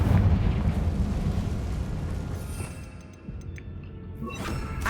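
A Confringo explosion spell goes off in the Hogwarts Legacy video game, a loud rumbling blast that rolls on for several seconds, dips briefly, then swells again with a few sharp crackles near the end.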